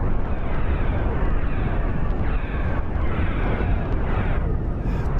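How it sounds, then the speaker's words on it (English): Cannons fire and shells explode in a space-battle video game, a loud, dense, continuous roar of overlapping blasts and rumbling impacts with no pause and no speech. "Those cannons are doing an absolute ton of damage."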